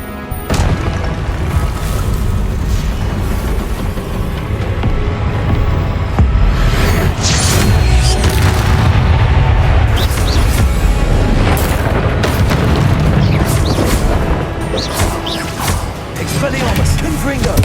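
Repeated Confringo spell blasts from Hogwarts Legacy, heavy booming bursts and crashes landing every second or two over a continuous loud rumble of game combat, with a voice calling out spells at intervals.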